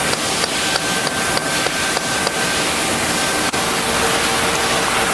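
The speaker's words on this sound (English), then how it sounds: "we'll take a dead blow hammer and gently tap the gland off into the cylinder" A dead blow hammer taps a hydraulic tie-rod cylinder gland, several sharp evenly spaced knocks over a steady background hiss, then one last tap before the noise continues alone.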